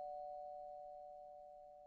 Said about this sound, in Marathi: बेल वाजली